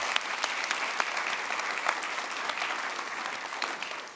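A conference audience applauds its speakers and panelists with dense, sustained clapping from many hands, steady and fairly loud, fading slightly at the end.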